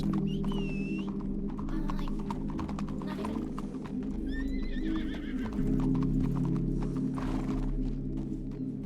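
Horse hooves clip-clop at a steady walking rhythm in a Western roleplay video game, with a few whinnies rising above the hoofbeats and faint keyboard tapping underneath.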